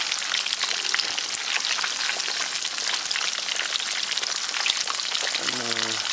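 Polish kotlety (cutlets) frying in oil in a wok, a dense, steady crackling sizzle that runs throughout at close range, with a brief tonal sound near the end.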